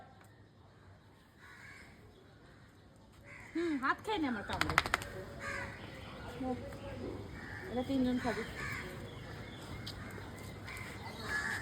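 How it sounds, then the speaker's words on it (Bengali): A crow cawing outdoors, several harsh calls near the middle, fairly close, with people talking around and over them. "দেখো একটা কাক চলে এসছে আবার"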